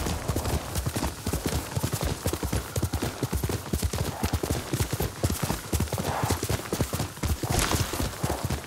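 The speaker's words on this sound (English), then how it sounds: "There we go. You're a good horse, Nobu." Horse hooves gallop in the video game Ghost of Tsushima, a fast rhythmic clip-clop pounding continuously and loudly over a rushing background.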